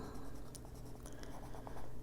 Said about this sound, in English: And I'm just pushing the pencil down a little harder here.